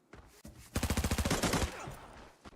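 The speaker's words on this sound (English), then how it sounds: "Looks like they're in a gunfight here with a mix of bots and a TAC Ops team." Rapid bursts of automatic gunfire in an Arena Breakout gunfight between bots and a TAC Ops team, a tight string of about a dozen shots after a few scattered single cracks, moderately loud and without talk.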